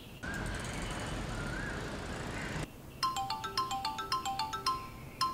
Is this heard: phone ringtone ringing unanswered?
yes